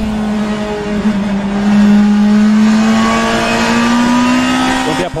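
BMW M3 E92 GTE race car in rFactor 2 at Oschersleben, its engine loud and close, climbing steadily in pitch under load before a quick gear change near the end, with a faint voice talking underneath.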